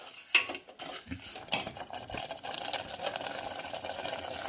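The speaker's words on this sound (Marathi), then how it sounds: "सारखं याला मीडियम गॅसवर फिरवत राहायचं आहे" A spoon scrapes and clinks around a pan of melting jaggery syrup over a medium gas flame, in irregular metallic taps and scrapes with a couple of sharper knocks, close and fairly quiet.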